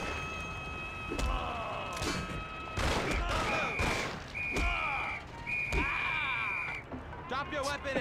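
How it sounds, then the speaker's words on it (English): Gunshots crack out in the Mafia video game, several sharp bursts scattered across a noisy scene with whistling tones and someone talking excitedly over the action. "He's trying to shoot me!"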